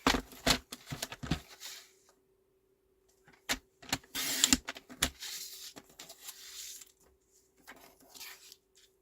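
A paper trimmer slicing paper for album making gives short scraping and clicking bursts, close and moderately loud, separated by quiet gaps, with one longer rasping stretch in the middle.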